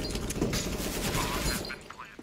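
Beretta pistols fire in a round of the CS:GO video game, a rapid string of gunshots around a corner, moderately loud over continuous background game noise.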